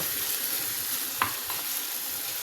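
Onions and meat fry in a pan with a steady hiss, and a single scrape of stirring cuts through the sizzle midway.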